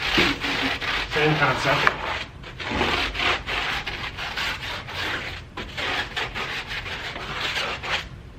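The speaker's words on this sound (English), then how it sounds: "grab your wheel brush, and then just scrub away" A wheel brush scrubs a car wheel in quick, rhythmic back-and-forth strokes, bristles rasping steadily at close range, while a person briefly speaks.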